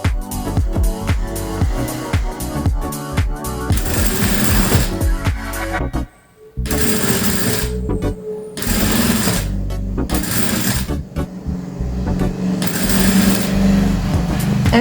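A sewing machine backstitches through fabric in loud, continuous bursts of rapid stitching, with one short pause near the middle before the motor runs again. No one speaks.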